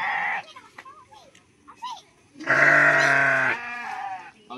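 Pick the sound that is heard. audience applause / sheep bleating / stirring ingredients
sheep bleating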